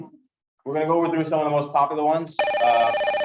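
A telephone gives a short electronic ring right after someone speaks at a senior safety seminar, starting sharply and staying close and clear to the end.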